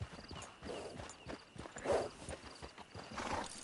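Horse hooves clip-clop steadily in a PS4 video game, with a whinny rising in the middle, all set against a busy game soundscape.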